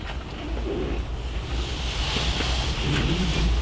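Wind blows outdoors on a film set for the movie Ahlat Ağacı, a steady loud rushing roar that buffets the microphone, with no voices heard.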